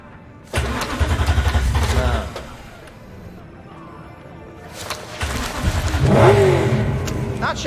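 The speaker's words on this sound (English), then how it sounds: "Start the engine?" A car engine in Cyberpunk 2077 cranks and catches loudly, revs in a rough rumble, drops to a quieter idle, then swells again into a second louder rev, with no talking.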